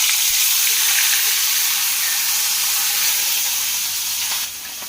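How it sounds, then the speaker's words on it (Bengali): Bhola fish slide into hot oil in a small kadai, giving a loud, steady, close sizzle and hiss that holds throughout and eases slightly at the very end. "এই যে ভোলা মাছ চলে যাবে গরম তেলে"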